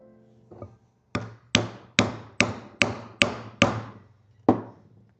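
French chisels are hammered into leather for a luxury handbag, giving eight sharp, close strikes in a steady, even rhythm, each a crisp knock that dies away quickly, with no talking.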